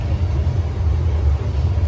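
Inside the cabin of a nearly empty passenger airplane in flight, a steady, loud low-pitched drone and rumble continues without a break.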